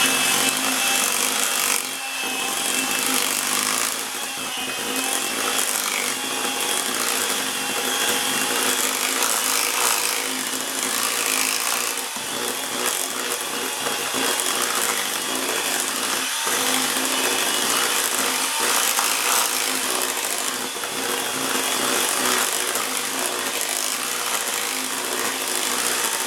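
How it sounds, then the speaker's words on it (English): Greek yogurt cake batter being whisked by hand in a mixing bowl, a steady scraping, rubbing wire whisk sound running continuously and fairly close, with no talk over it. "So give this a whisk"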